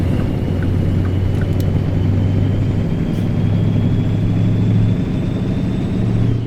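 Mack truck engine in American Truck Simulator rumbling steadily with a low idle-like drone, rising slightly as it revs, continuous and close with no talk.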